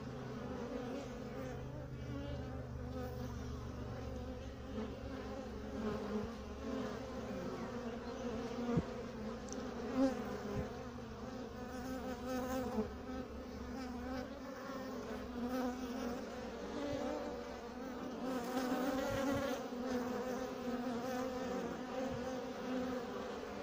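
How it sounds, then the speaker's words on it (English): Honey bees buzzing close by, a steady droning hum that swells and fades as the insects fly around, with no talking. "I got a bee on my hand and the wings is chewed up a little bit."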